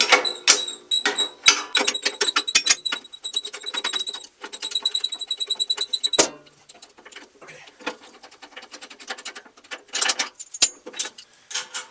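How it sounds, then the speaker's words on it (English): An adjustable wrench works a bolt on a bandsaw during a height-extension fit-up, giving bursts of rapid metallic clicking and ratcheting in uneven runs, close and fairly loud, with sharp knocks between. "you can kind of wiggle an adjustable wrench in there"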